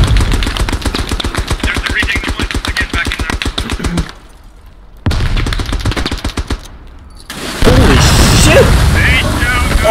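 A machine gun lays down suppressing fire on the Comble 1916 map of a WW1 game. Rapid, evenly spaced bursts stop briefly and then resume, ending in a louder roar of gunfire and explosions, with voices mixed in.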